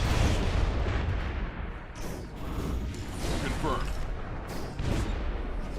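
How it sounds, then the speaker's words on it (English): Dense, rumbling video game explosions and bursts of gunfire-like booms fill the scene, loud and continuous, with a voice briefly speaking over the din. "See, more random explosions."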